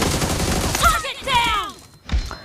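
A burst of gunfire erupts during a PUBG Mobile match, rapid shots and thuds mixed with in-game effects over a short, loud stretch, with a voice speaking partly underneath.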